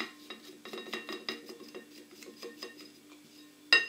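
Gelatin and milk mixture being stirred into chocolate, a rapid series of light utensil taps and clinks against a bowl, ending in a sharper knock.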